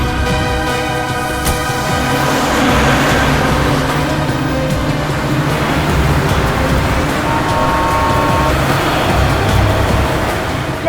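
A car engine rumbles and rolls away over a noisy background of traffic, steady and fairly loud.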